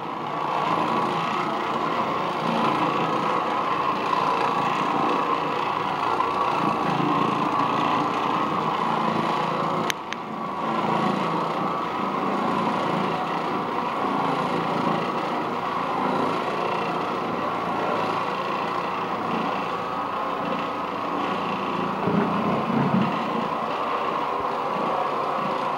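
An Oreck Orbiter floor machine runs a brush and bonnet over worn carpet, a steady droning motor hum with constant scrubbing texture throughout and one brief knock partway through.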